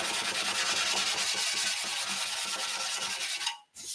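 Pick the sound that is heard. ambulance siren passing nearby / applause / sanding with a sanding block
sanding with a sanding block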